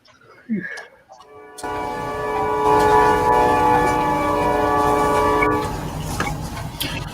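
A passing train sounds its horn in a long, sustained, loud blast over the heavy rumble of rail cars. A brief voice comes just before the horn.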